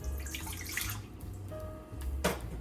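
Warm water is poured into a bowl for yeast when starting cinnamon roll dough, a close, continuous splashing stream with a brief louder splash near the end, without talk.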